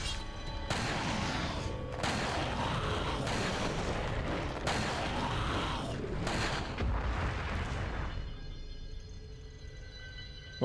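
Gunfire and booming blasts from the Resident Evil 4 video game, loud and dense for about eight seconds with repeated shots layered over game audio, then dropping away to a quieter tail.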